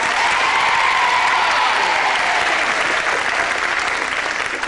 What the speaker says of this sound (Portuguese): O aplauso foi pra eles, não foi pra você.